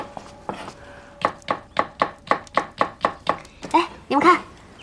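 Knife chopping vegetables in a kitchen: a steady run of about ten crisp, evenly spaced cuts up close, ending in a couple of heavier chops, with a faint hum behind.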